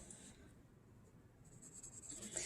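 Colored pencil barely touching paper, a faint, steady soft scratching as light shading fades toward white, continuous and close with no talking.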